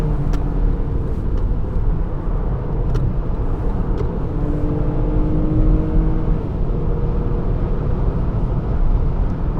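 A 2019-2021 Lexus ES 350 F-Sport cruising at high speed fills the cabin with a loud, steady low roar of road and wind noise, with subtle pulsing buffeting swells and no talk.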